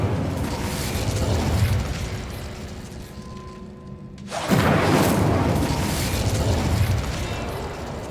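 A fire spell cast in Hogwarts Legacy bursts out as a loud whooshing blast of flame, shifting from a quieter ambient passage into a sustained roaring crackle that carries on for several seconds.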